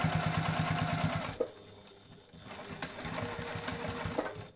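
A sewing machine stitches a chair cover with a rapid, steady mechanical chatter, pauses briefly, then runs again at close range.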